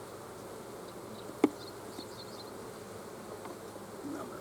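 Bees hum low and steady around a hive as its top cover is handled, with one sharp click partway through and no voices.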